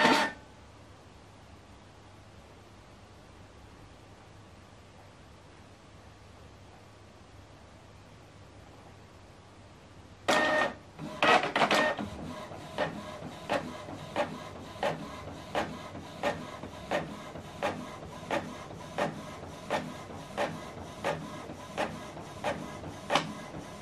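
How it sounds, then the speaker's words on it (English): A Canon printer running a double-sided print job: quiet hum at first, then a loud mechanical clatter as the page feeds, followed by a steady series of rhythmic clicks and whirs from the carriage, close by with no talk. "So it's going to go back inside to print the second page."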